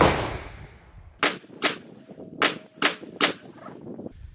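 Five loud, close handgun shots at a target in an uneven rhythm, from a compact pistol such as a Ruger Max-9 or Sig P365. Each report is a sharp crack followed by a short ringing decay.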